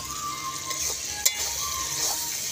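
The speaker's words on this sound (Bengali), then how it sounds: "কষছি কষানো হচ্ছে আদা রসুনটা যাতে না গায়ে না লেগে না যায়" Ginger-garlic paste for a home chicken curry is stir-fried in a large kadai, giving a steady close sizzle with light scraping and a single sharp clink midway.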